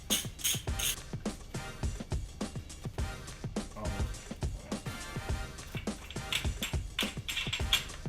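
A ratchet socket wrench, size 18 socket, works on bolts of a Honda S2000, giving a quick series of sharp clicking ratchet strokes with light metallic creaks, close and fairly quiet, with no talking.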